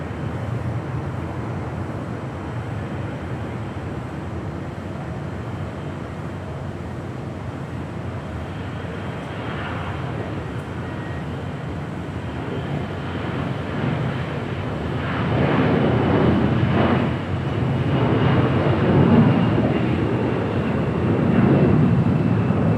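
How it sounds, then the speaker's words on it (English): An American Airlines Boeing 787-8 Dreamliner lands at Los Angeles International Airport. A steady distant jet roar builds into a louder rumble with wind noise as the aircraft passes closer, and no one speaks. "American Airlines flight 26 coming in from Tokyo Haneda, 787-8 Dreamliner."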